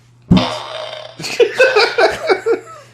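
A loud, rough, sputtering fart-like blast with a steady low hum beneath, followed by a rapid series of pulsing bursts, close and fairly loud with no talk over it.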